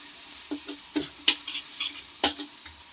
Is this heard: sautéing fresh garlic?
yes